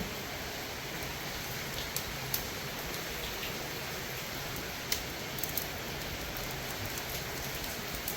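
Rain falls steadily in an even, close hiss with occasional faint drip ticks, and no voices over it.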